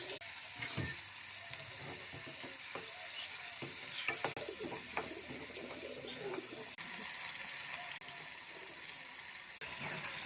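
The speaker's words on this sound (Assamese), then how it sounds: "কেৰাহীটো ভালদৰে গৰম হোৱাৰ পিছত এয়া কাটি থোৱা সৰখিনি ইয়াত দি দিছে" Cream frying in a hot wok over a medium gas flame to make ghee, bubbling and sizzling continuously with scattered crackles and a few stirring scrapes, close up and without talk.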